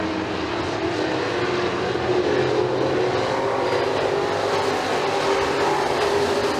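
Pure stock race cars run side by side, wheel to wheel, through turn 3 at McKean County Raceway, a dense, steady engine roar with a drawn-out droning whine, loud and unbroken for the whole stretch.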